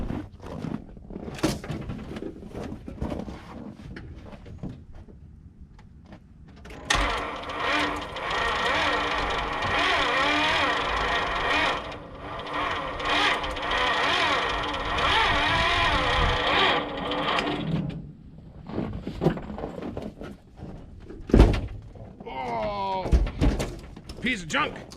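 A 1981 Dodge Ram, a Gen 2 truck that sat for ten years, cranks steadily for about ten seconds without starting, a loud, even whir close by, with clunks and talk before and after.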